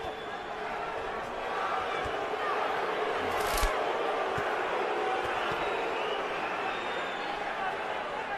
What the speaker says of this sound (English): Crowd wants more action to go with all that intensity